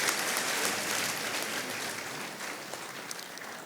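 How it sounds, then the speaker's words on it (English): A conference panel session audience breaks into a big round of applause: thick, even clapping throughout, slowly easing off toward the end with no voices over it. "A big round of applause."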